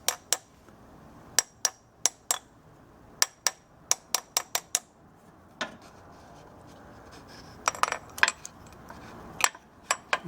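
A small hammer taps a transmission shift solenoid into place with many sharp, metallic strikes, single and in quick clusters with uneven gaps, close and crisp over a quiet background, with no voices.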